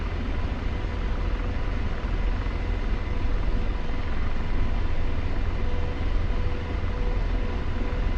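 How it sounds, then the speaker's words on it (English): Chinook helicopter flying in the DCS World combat flight simulator, heard as a steady, dense rotor and engine drone that stays loud and constant throughout, with no talking. "that's a Chinook though. Those things are fast."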